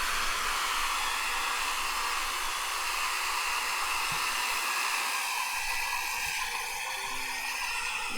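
A hair dryer running on its lowest setting makes a steady, loud, close airflow hiss that holds constant with no talk, used to dry a modeling clay figure.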